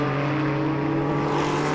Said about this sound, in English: Chassis attributed to Lola, powered by 289 cubic inch Ford V8